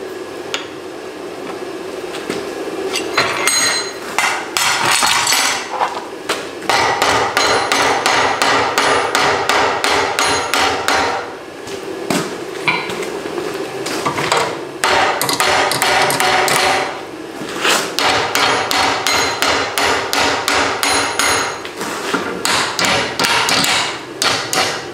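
Repeated heavy hammer blows on rebar clamped in a vise to upset the end, loud ringing metallic strikes in steady bursts separated by brief pauses.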